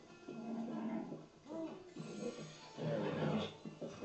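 Horse snorts and whinnies from the Zelda: Breath of the Wild video game, close and moderately loud, in a few separate bursts, the middle and last ones fuller and longer.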